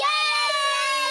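Two young girls, aged seven and five, cheer in high, excited voices, a bright burst of children's shouting that carries on loud and unbroken across the whole short moment.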